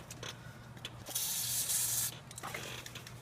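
A nearly empty can of WD-40 gives a steady hiss of spray lasting about a second, with light clicks and handling noises before and after, close and fairly quiet.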